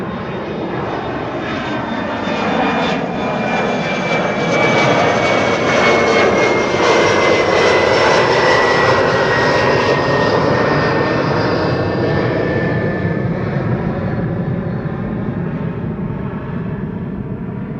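A KLM Boeing 777 jet departs from Amsterdam Schiphol, a loud sustained engine roar with a high whine that builds and holds throughout, heard without talk.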